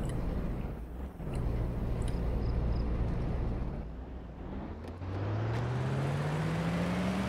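A truck engine runs in the game DayZ Origins, a loud continuous rumble whose pitch climbs steadily toward the end as the vehicle revs up.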